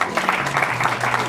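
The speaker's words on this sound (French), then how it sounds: "applaudissez pour toute l'équipe là" Guests at a customary wedding in Brazzaville applauding, a dense, steady patter of many hands clapping with a voice speaking over it.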